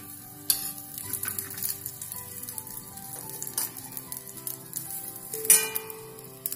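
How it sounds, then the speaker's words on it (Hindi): Spoonful of ghee poured onto a burning charcoal piece set in the middle of a veg seekh kabab mixture, giving a steady close sizzle and crackle with a couple of sharp pops, no talking. "इसे बीच में डालेंगे और 1 चम्मच घी डालेंगे इसके ऊपर।"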